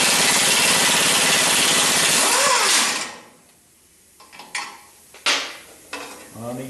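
Removing 3/4 inch bolts from a steering knuckle dust cover: a loud, harsh tool burst for a few seconds, then quieter scattered metallic clinks and clunks nearby.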